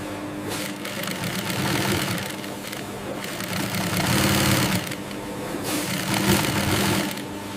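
Sewing machine stitching koshihimo waist ties into the inside of a banana fiber kimono, running in loud, close bursts of rapid mechanical whirring with short pauses between runs.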